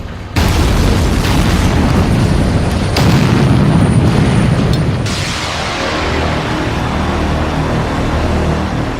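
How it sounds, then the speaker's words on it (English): A loud, heavy rock-blasting explosion in a tunnel booms and roars, followed by rumbling debris and a long echoing reverberation that slowly fades. "they have to be dug out the old-fashioned way, by drilling and blasting"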